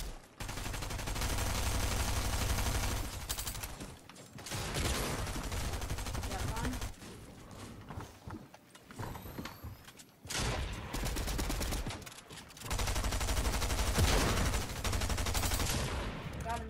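Rapid automatic gunfire from the Fortnite battle royale video game rattles in long sustained bursts with short gaps, loud and dense, with occasional voices in the background.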